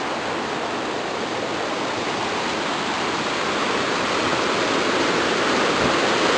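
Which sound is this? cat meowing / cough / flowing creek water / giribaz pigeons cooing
flowing creek water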